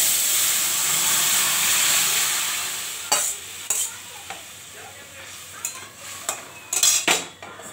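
Bengali fish curry (macher jhol) goes into a pan of hot oil with chilli, cumin, nigella and bay leaf, a loud steady sizzle followed by sharp clinks and scrapes of a utensil stirring against the pan.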